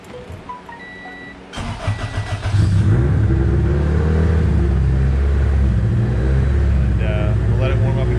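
A high-compression Honda D16Z6 engine cranks briefly, catches and fires up, then settles into a loud, steady close-up idle with a slightly uneven rumble.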